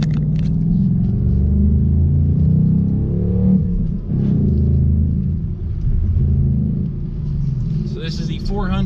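A 475-horsepower 2019 Ford Mustang Bullitt rumbles on a track with a deep, steady low engine drone that swells and eases slightly, while someone talks over it throughout.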